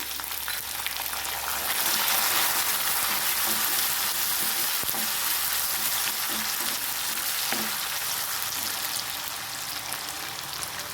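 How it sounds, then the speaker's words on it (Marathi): Soaked urad and chana dal frying in hot oil, a loud, dense and steady sizzle that swells after the first two seconds and stays close and constant, with a few light stirring ticks and no voices. "थोडीशी उडदाची डाळ आणि थोडीशी अगदी चण्याची डाळ भिजत घातली होती ती ह्याच्यामध्ये आपल्याला तेलावर फ्राय करून घ्यायची"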